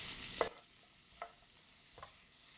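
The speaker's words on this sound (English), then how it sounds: "Give them a quick stir." A short scrape of a utensil stirring onions in bacon grease in a pan, followed by faint clinks and a soft sizzle in a quiet kitchen.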